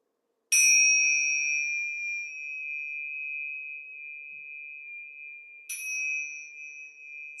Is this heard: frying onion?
no